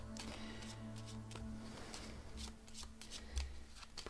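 A deck of tarot cards shuffled by hand, repeated quick riffling bursts and soft slaps in a steady rhythm, close and fairly quiet, with no talking.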